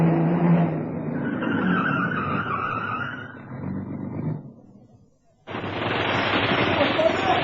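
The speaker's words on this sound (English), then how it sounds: "a fat black saloon turned in from the 4th Street at Main and stopped" A fat black saloon car turns in off a street and pulls up, with engine roar and a tyre skid, then a brief hush before another loud burst of noise.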